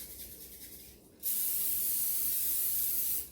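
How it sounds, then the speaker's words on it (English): After a quiet moment, a steady hiss of cooking spray is sprayed onto a Bundt pan for about two seconds, close and loud. "I'm going to spray my pan."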